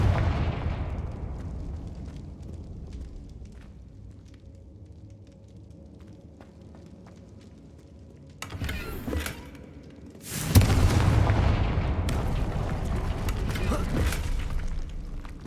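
A Confringo fire-blast spell in Hogwarts Legacy on PS5: after low ambient rumble, two loud blasts burst out, the second longer and followed by a sustained roaring tail.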